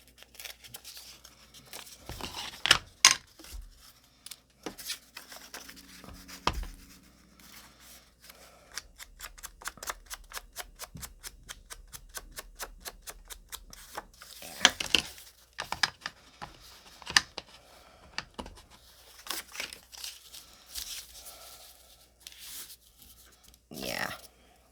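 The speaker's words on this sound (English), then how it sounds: "but tear it up a little bit." The edge of a plastic cereal box liner bag is torn by hand in short crinkly rips and rustles, irregular and close, with someone speaking over parts of it.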